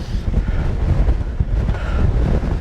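Wind buffets the microphone on a hilly bike climb near Starbotton and Kettlewell, giving a steady low roar and rumble with no voices.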